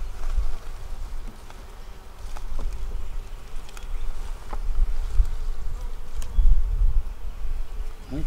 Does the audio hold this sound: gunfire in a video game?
no